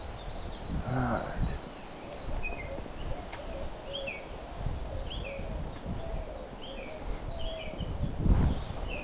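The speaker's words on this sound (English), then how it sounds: "that's the bird that making the sound and annoying the hell out of me" A bird calls near Starfish Point beach in the Cayman Islands, repeated short high chirping notes scattered over rustling wind and ambient noise, moderately close.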